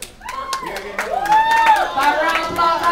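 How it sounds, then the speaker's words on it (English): Scattered hand claps from a comedy club audience ring out alongside whooping and hollering voices, the cheering building and holding loud through most of the moment. "By round of applause, how many of y'all have kids?"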